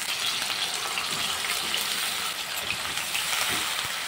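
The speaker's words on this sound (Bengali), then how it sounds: "কড়াইয়ের মধ্যে কলাগুলো দিয়ে দিয়েছি। এবার একটু ভেজে নেব।" Raw banana pieces coated in salt and turmeric fry in white oil in a wok, giving a dense, continuous close-up sizzle with a watery hiss that stays steady throughout.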